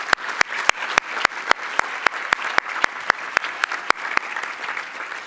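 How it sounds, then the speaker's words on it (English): An audience at the 2022 Ladder of Hope event claps for the sponsors. The sharp claps come at a strikingly even pace, rhythmic and steady for several seconds over a soft hiss. "Let's give a round of applause to all of today's sponsors."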